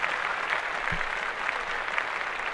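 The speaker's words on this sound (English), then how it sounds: "Let's clap that up" A group of people applaud together in a dense burst of clapping. It sounds close and steady for the full moment, with no distinct voices over it.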